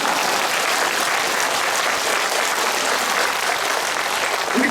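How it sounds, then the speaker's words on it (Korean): A large crowd at a Catholic Holy Spirit convention in Incheon applauds during a friar's lecture, a thick, continuous roar of clapping that stays loud and even throughout. "왜 박수 안 치세요?"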